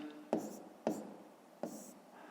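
Pen writing by hand on paper, three quick close scratchy strokes with short pauses between them, in a quiet room.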